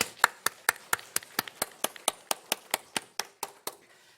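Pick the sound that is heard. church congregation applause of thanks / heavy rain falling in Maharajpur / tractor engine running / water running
church congregation applause of thanks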